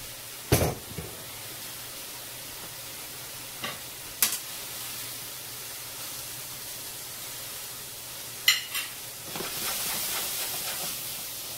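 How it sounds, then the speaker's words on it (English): Vegetables sautéing in oil in a pan for chicken fettuccine primavera, a soft continuous sizzle and hiss with a few sharp utensil knocks spaced apart and a rising burst of steam near the end; no talking. "We're trying to saute and not burn"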